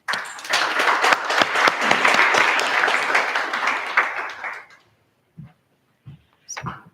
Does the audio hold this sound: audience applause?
yes